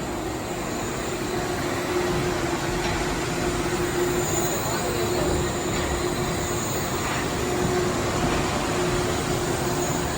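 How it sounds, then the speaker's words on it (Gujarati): A suspended upside-down train in Germany pulls into a final stop and leaves again, a steady, moderately loud rumble with a faint mechanical hum running unbroken through the whole stretch. "એક ટ્રેન આવીને આ ટ્રેન તૈયાર છે જવા માટે."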